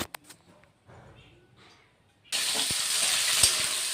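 Yardlong beans and carrot hit a hot pan for frying rice, breaking into a loud, steady broadband sizzle after a quieter lead-in with faint voice and clinks, with a sharp clatter near the end.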